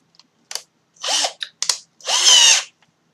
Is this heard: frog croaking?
no